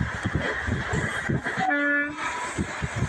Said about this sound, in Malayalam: നല്ല കാറ്റടിക്കുന്നുണ്ട് കേട്ടോ. ചിലപ്പോൾ ട്രെയിനിൻ്റെ സ്പീഡ് കൂടുതലായതുകൊണ്ടാവാം.